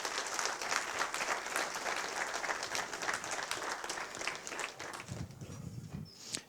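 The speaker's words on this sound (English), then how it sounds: "So big applause for those people." An audience at the wroc_love.rb 2016 Ruby conference claps for returning attendees. The dense, steady applause fills the room continuously, and a few low thumps of people sitting down come near the end.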